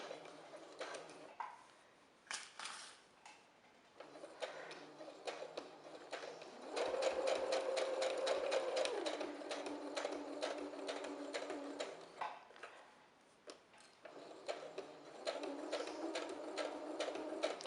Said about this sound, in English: So we're sewing our 1/2 inch seam allowance.